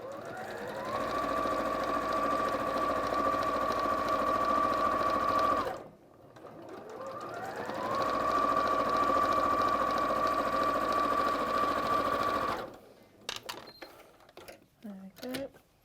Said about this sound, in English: You can just do it with your sewing machine.